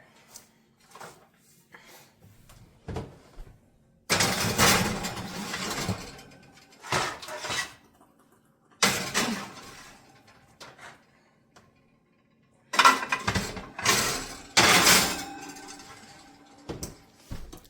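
Cinnamon roll baking pans slid into a home oven: scattered metallic clanks and scraping bursts of rack and pan handling, with a few louder clattering clusters separated by quiet gaps.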